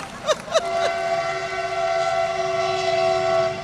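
A train passes with its horn sounding: a couple of short blasts, then a long sustained loud horn tone over the rumble of the rolling cars.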